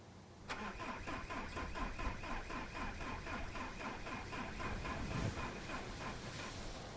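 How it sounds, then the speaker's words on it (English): In the video game Far From Noise, a car engine cranks over and over without catching, a steady rhythmic churning starter rattle with a whining tone, continuous for several seconds at moderate volume. "Nope, car's not going to start."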